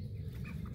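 A Phoenix long-tailed rooster clucks softly among other young birds, a few brief low clucks over a rumbling background, fairly faint and without speech.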